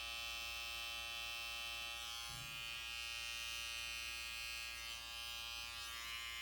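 An electric hair clipper buzzes steadily and close up while trimming a neck hairline during a classic side part haircut, a continuous even hum with no speech.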